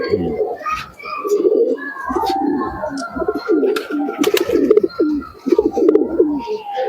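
Madras pigeons coo repeatedly in close, low, rolling bursts, several birds overlapping in an uneven rhythm, with occasional sharper chirps and faint background voices.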